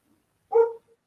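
A single short bark from a shepherd dog indoors, fairly near, brief and isolated against near silence.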